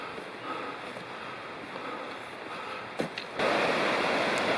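Citico Creek in the Cherokee National Forest rushes steadily in the distance as a soft, constant wash of flowing water, growing louder and nearer toward the end.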